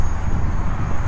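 A T-28 Trojan RC model airplane with a 1.1 m wingspan makes a low pass on its maiden flight, its electric motor giving a loud, steady, close whine with a broad rushing hiss and no talk.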